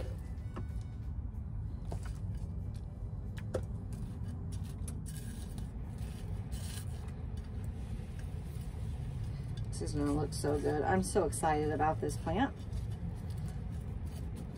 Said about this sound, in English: Sorry about the noise of the heater that kicked in the background.